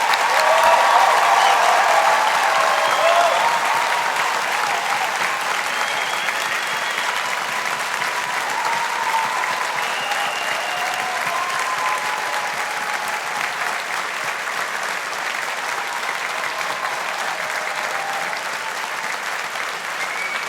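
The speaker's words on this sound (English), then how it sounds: "let's just give a round of applause to the class of" Audience at a university graduation ceremony applauding the class of 2022, a dense, sustained wash of clapping that stays loud and even throughout with a faint murmur of the crowd beneath.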